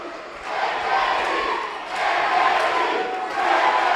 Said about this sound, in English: Dueling chants from the crowd.